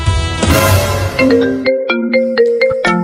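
A bright electronic ringtone plays a repeating pattern of short chiming tones, loud and close, after a brief burst of noisy clatter at the start.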